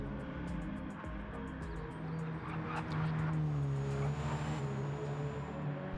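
Race cars in the Gran Turismo video game drive around a track, producing a steady, layered engine drone with sustained tonal whines and no clear passes.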